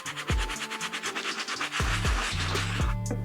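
A medium bristle brush scrubs very dirty 1985 Air Jordan Kentucky OG sneakers in quick, close, rhythmic rasping strokes, loud and steady with no talk.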